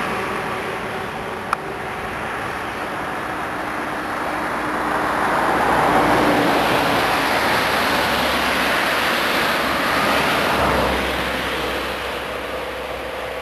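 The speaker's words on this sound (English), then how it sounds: "It's definitely a rainstorm." Heavy rain pours down in a steady, dense roar near a small town in the Czech Republic during a bike tour, swelling louder midway before easing slightly, with a single sharp tap early on.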